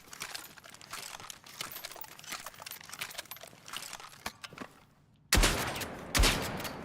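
Gunfire in Battlefield 6, aimed at protected lights, crackles as steady dense bursts before two loud, close volleys near the end, with no talking.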